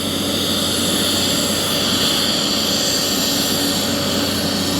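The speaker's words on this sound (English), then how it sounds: "The airport's right over there, so you can see lots of planes." An airplane flies over Boston Harbor near the airport, its steady engine roar holding loud and unbroken the whole time, with no talk over it.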